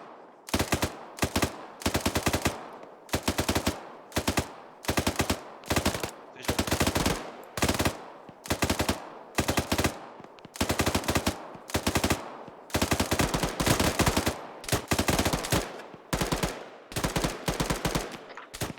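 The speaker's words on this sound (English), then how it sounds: "those shots sound like they're farther out" Bursts of automatic gunfire from a military shooter game crackle in repeated, rapid volleys with short gaps between them, sounding somewhat distant and steady across the whole stretch, with no voices.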